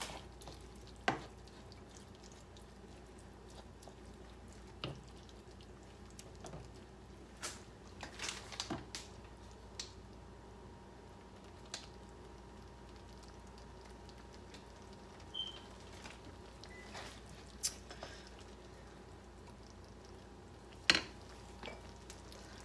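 Taco meat for nachos being stirred in a pan, giving faint, sparse scrapes and clicks over a low, quiet sizzle.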